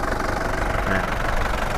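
A 2004 Isuzu D-Max four-door pickup engine idles close by with a low, continuous rumble and faint rattling, running evenly throughout without any revving.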